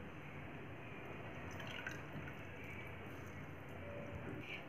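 Water trickles and drips faintly and steadily as sponge rasgulla are squeezed out by hand before going into sugar syrup. The sound is a soft, continuous wet hiss with small drips.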